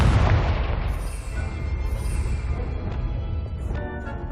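Confringo spell explosions in Hogwarts Legacy, a heavy booming blast up front followed by rumbling debris and crackling bursts that trail off, loud and close with no talk.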